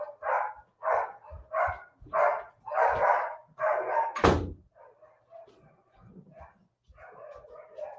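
Dogs bark at home in a quick run of loud, close woofs, followed by a thud like a door shutting and then a few quieter barks and yips afterward.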